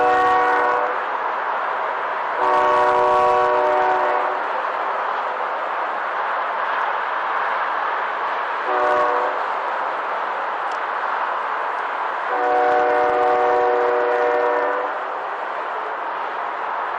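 A BNSF freight train rolls past a road crossing in Larkspur, Colorado, on the Joint Line, sounding a loud multi-tone horn in several long blasts over a continuous rumble of wheels and engines.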